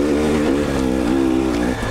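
A car engine revs hard while climbing a steep cliffside ascent, close and loud with a strained, wavering tone as it shifts into second gear, then a brief dip near the end.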